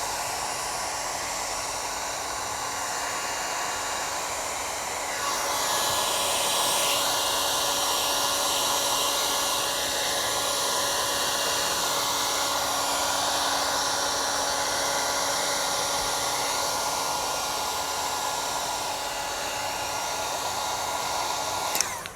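A heat gun blows steadily for a long stretch while warming the edges of a wrap film on a Cybertruck pillar, a continuous close airy whir with a tonal hum that swells slightly partway through.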